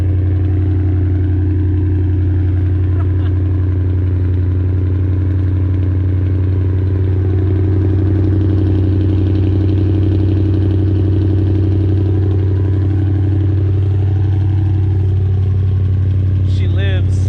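A car engine idles steadily with a deep low hum after starting in heavy snow, close and continuous, with a voice talking over it near the end.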